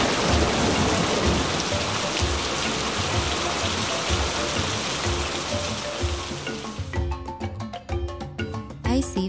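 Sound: rain falling

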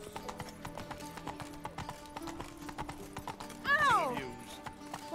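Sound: horse Roach trotting, hoofbeats, from video game The Witcher 3

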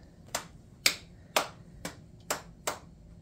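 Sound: hand clap as sound cue

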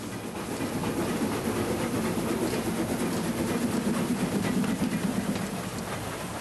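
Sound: Harz narrow-gauge steam trains departing in parallel

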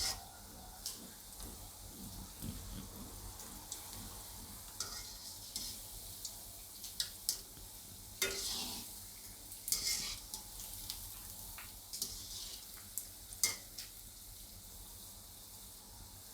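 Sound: frying patra rolls in oil on low flame

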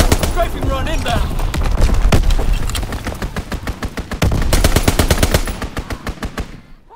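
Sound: strafing run gunfire in video game Call of Duty WWII

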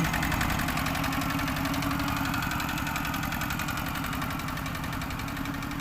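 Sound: large farm tractor engine

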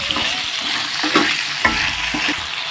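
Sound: stirring vegetable curry mixture with salt

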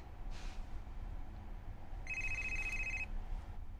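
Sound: telephone ringing

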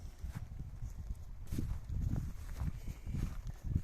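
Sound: horse hooves clip-clopping

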